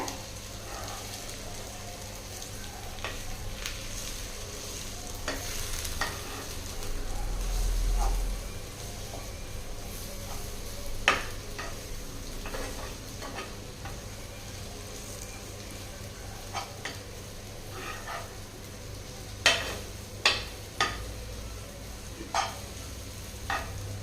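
Egg and bottle gourd masala gets stirred in a pan, a steady low sizzle running under scattered clinks and scrapes of the spoon against the metal.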